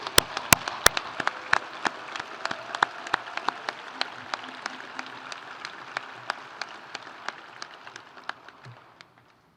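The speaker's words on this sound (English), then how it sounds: "please, all of you join in with a big round of applause" An audience at an MSU Hall of Fame induction ceremony gives the 1965-66 football teams a sustained round of applause, with scattered sharp individual claps standing out over steady clapping before it fades out.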